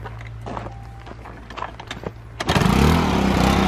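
An old scrapyard car engine idles roughly with scattered knocks and clatter, then revs up abruptly into a loud, sustained roar when the throttle opens near the end.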